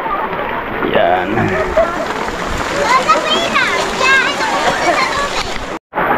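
Water splashes and sloshes as people bathe in a river during a village outing, with children chattering and shouting over the continuous wet splashing, which cuts out briefly near the end.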